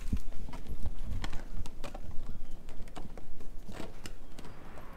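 Horses trot home across pasture, a close, loud stream of hoofbeats clopping in quick uneven rhythm, several animals overlapping, with no talk heard.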